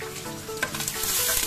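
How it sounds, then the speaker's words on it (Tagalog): Fish frying in hot oil, a dense crackling sizzle with small pops and spatters, close and continuous. "nagprito ako ng isda guys"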